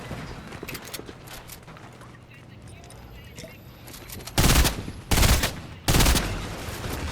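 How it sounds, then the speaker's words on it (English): Three loud bursts of rifle fire from the burst rifle in the Fortnite video game ring out near the end, each one a short, tight cluster of shots. Quieter game ambience with scattered clicks and footsteps comes before them. "The burst shoots through walls, guys."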